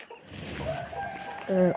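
A hen in a Kakheti farmyard lets out a few soft clucks close by, ending in a louder, sharper call, while a person speaks nearby.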